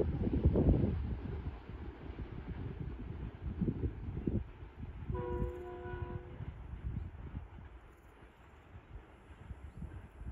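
A passenger train led by locomotive GU20 4553 rolls through Kaluwal railway station, a steady rumble of wheels and cars with a brief horn-like tone midway, heard from trackside amid wind noise.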